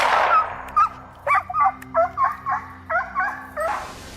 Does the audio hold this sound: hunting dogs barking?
yes